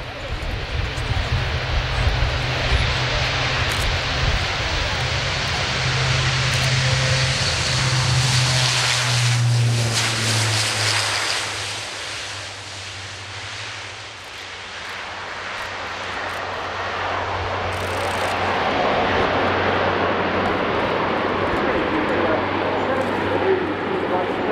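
An Airbus A400M military transport aircraft takes off at an air show, its turboprop engines roaring loudly and steadily with a low droning hum, swelling and easing as it climbs, while a commentator talks over it.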